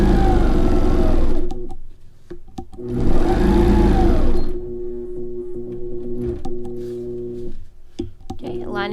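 An APQS longarm quilting machine stitches along a ruler while sewing a wide arch border, giving two loud bursts of steady mechanical whirring separated by quieter pauses with soft clicks and a low motor hum.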